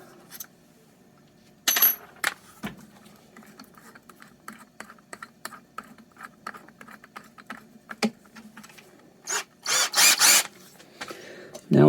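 A drill bit is swapped and then used on the metal chassis of a Hallicrafters TW 1000 radio, with scattered clicks and rattles of the chuck and tools before a loud burst of drilling near the end.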